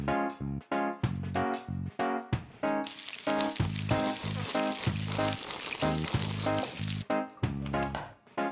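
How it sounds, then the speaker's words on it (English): Onions, tomatoes and mushrooms fry in hot oil in the Toca Kitchen cooking game, a bright sizzle rising and falling alongside repeated stirring clicks and cartoonish tonal effects in a steady rhythm. "We fry the onions, tomatoes and mushrooms in hot oil."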